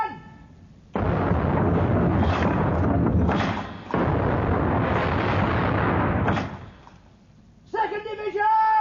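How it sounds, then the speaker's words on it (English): A naval gun division opens fire in a broadside from a sailing warship: a long sustained roar of heavy cannon blasts rolling together, booming loud and close, then fading before shouted voices rise at the end. "Open fire, 1st Division!"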